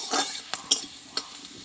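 Black cumin seeds and slit green chillies hit hot oil with a bright sizzle and crackle, followed by a few sharp spatters and stirring clinks from a utensil, with no voices.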